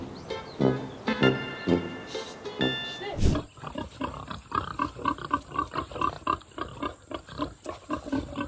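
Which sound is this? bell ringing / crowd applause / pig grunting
pig grunting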